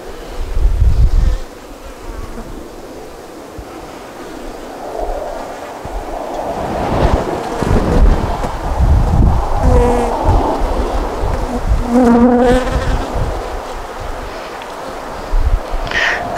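Honeybees buzzing in an open hive during an inspection for a queen, a dense continuous drone with individual bees whining past close by, with brief handling knocks.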